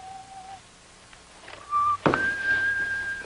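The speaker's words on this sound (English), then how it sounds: "There's some sort of a whistling noise coming over." A whistled tune, the Bluebells of Scotland, coming over a shortwave radio in a 1940 serial, clear sustained whistled notes separated by pauses, with a dull thump partway through.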